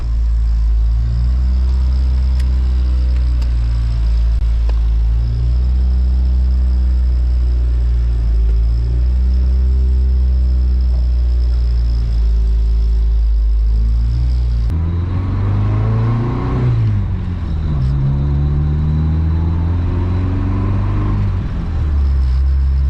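A car engine idles loudly, then revs up and down in a burst near the end, with the fluttering chatter of a freshly adjusted blow-off valve as the throttle drops, close up in an engine bay.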